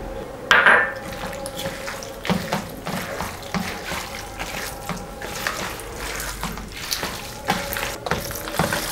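Curd is mixed by hand or spoon into tempered rice for curd rice, producing irregular wet squelching and soft clinks of utensil on a vessel, fairly close.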